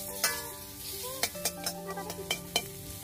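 Pork stir-fried with minced garlic in a pan, giving a steady sizzle with a series of sharp spatula clacks and scrapes at an irregular rhythm, heard up close with no talk.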